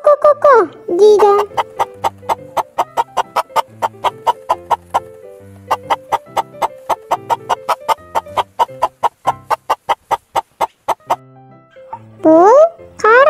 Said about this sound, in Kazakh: ко-ко-ко-ко-ко дейді.